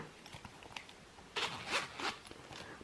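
Louis Vuitton leather wallet zipper being pulled open: a few faint ticks, then a close, crisp zipping run of about a second with a couple of quick rasps after it.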